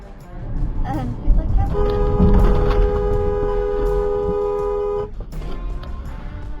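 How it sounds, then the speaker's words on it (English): A car horn sounds in one long sustained blast of a few seconds over road noise and engine rumble, close by, ending abruptly, as a truck turns across the lane. "he had to honk and slam on the brakes to avoid a collision"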